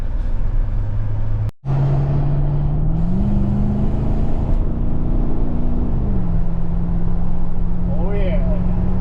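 A Holden VT Calais with a 5-litre V8 cruises on the road, its cabin filled with a constant low engine drone whose pitch climbs in steps and then settles, with a brief dropout early on.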